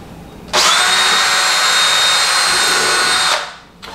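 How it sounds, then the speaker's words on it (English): A power drill pre-drilling hardwood starts abruptly, whines at a steady high pitch for about three seconds, then winds down and stops. "always pre-drill hardwood."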